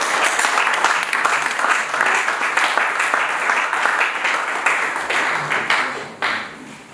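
Church congregation applauding in a sustained burst of dense clapping that fills the space, loud and steady before tapering slightly at the end.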